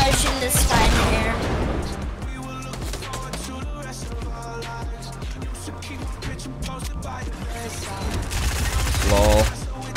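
Gunfire in a Fortnite match, rapid bursts of shots and impacts layered over game sounds and busy action, loud and dense across the whole stretch.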